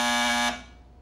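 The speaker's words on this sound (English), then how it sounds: "Now, Dennis, if you need anything, just buzz this buzzer and I'll come running" A call buzzer sounds in one steady, harsh electronic tone for about half a second, then cuts off and fades out, with no one speaking.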